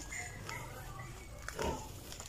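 Backyard pigs eating water spinach (kangkong), with soft grunts and oinks and wet chewing and rustling of leaves close by, plus a louder snort near the end and faint background noise.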